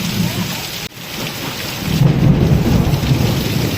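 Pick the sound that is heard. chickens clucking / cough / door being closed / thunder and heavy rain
thunder and heavy rain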